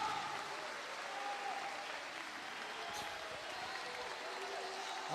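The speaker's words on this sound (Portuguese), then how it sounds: "troca o grito por palmas e glória a Deus e aleluia" A church congregation applauds during a sermon, a steady broad wash of clapping hands held at an even level throughout without a clear break.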